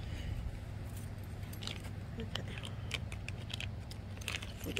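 A bunch of keys jangling close by during assembly of an AddMotor Soletan M-66X electric bicycle, with scattered bright metallic clinks and rattles over a low steady background hum.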